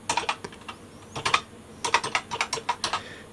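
Fingers tap on a BBC Micro keyboard entering a telnet command, with quick clusters of crisp, close key clicks separated by brief pauses.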